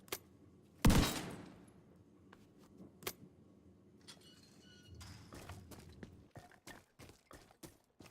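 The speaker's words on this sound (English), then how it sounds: "Don't mind me just shooting locks off of things." Gunfire from shooting locks off in the video game The Division 2: a sharp initial shot, a second crack, then a rapid scatter of short cracks and clicks toward the end, fairly quiet overall.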